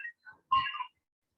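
A phone ringtone sounds in a few short melodic chime bursts, clear and fairly close, with no one talking over it.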